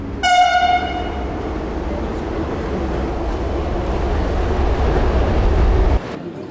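A metro train runs steadily with a loud low rumble, opening with a brief horn toot and fading slightly as the rumble cuts off near the end.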